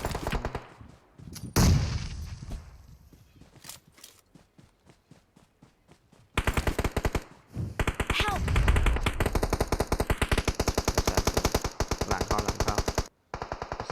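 Gunfire in the PUBG Mobile video game: scattered shots at first, then long bursts of rapid automatic fire rattling loudly and almost without a break, with players talking over the action.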